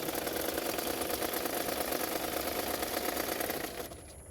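A sewing machine runs steadily while stitching a padded blouse, a close continuous mechanical whir that stops near the end.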